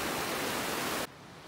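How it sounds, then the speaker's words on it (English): Sulphur Creek flows in a steady broadband rush along a mountain trail near Fiddle Pass in Jasper National Park, a dense hiss that drops sharply partway through to a quieter, softer wash. "That is Sulphur Creek."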